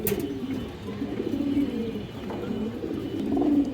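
Pigeons coo in a steady, low, rolling murmur, several birds close by at a pigeon sale, with no talk over them.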